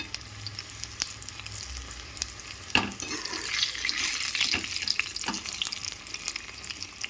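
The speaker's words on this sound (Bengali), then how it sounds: "দেখেছেন 2 মিনিটের মধ্যে আমার বেগুন মোটামুটি ভাজা হয়ে গেছে" Eggplant slices frying in hot oil for a Bengali fish-and-brinjal dish, a steady hissing sizzle with a sharp clatter near three seconds, continuing close and fairly loud.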